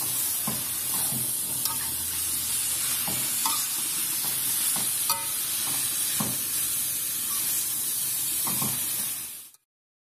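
Fern leaf vegetables cook in a pan with a little water, Aceh style, and are stirred, giving a steady steamy sizzle with repeated soft scraping strokes before the sound cuts off.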